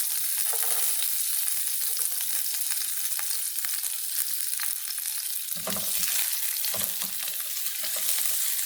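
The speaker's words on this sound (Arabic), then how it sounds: "هقلبهم مع بعض تقليبة سريعة، وهننزل عليهم التومة" Eggplant and peppers stir-fry with garlic in a pan, giving a loud, steady sizzle close up, with occasional low clatters and scrapes as the pieces are turned over.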